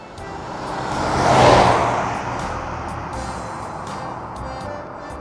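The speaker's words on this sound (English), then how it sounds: "Safety car." A safety car approaches and passes with a swelling whoosh of engine and tyres that peaks early, then settles into a steady background traffic hum.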